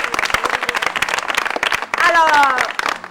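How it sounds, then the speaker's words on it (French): Applause from a studio audience at a French television game show, dense clapping under loud overlapping voices and cheering. "Mesdames et messieurs, je vous demande d'applaudir"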